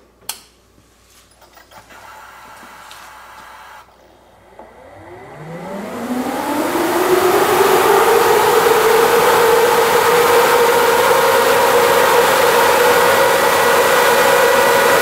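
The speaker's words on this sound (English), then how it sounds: "when I press this button, you're going to hear the fan do a few things, and then you'll see the amperage slowly roll up and the fan will slowly speed up" A Delta Pag brushless radiator fan sits quiet with a few faint ticks and clicks, then starts turning and steadily winds up into a loud, rising rushing whoosh that levels off into a constant roar.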